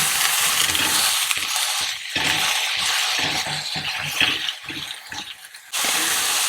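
Grass fed beef meatballs sizzle and simmer in a pot while being stirred, a loud steady bubbling hiss broken by scraping and clinking of the spoon against the pot.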